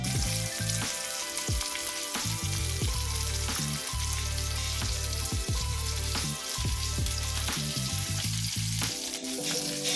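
Marinated lamb fries on a stovetop in a steady, loud sizzle that runs throughout, with sharp utensil clicks and scrapes scattered over it and no voices.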